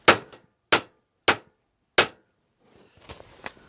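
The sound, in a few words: hammer striking driveshaft part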